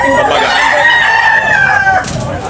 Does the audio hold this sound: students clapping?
no